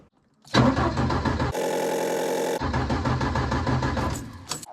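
A Ford Escort ST170 engine cranks over with its coil pack disconnected, giving a loud, rhythmic starter churn that pauses briefly into a steadier whir, then resumes without firing.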